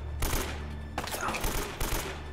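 Rapid gunfire bursts from Uncharted: Drake's Fortune, a PlayStation action game, sounding as a dense fusillade of shots in two clusters over a steady game background.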